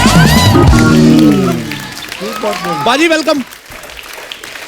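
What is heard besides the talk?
studio audience applause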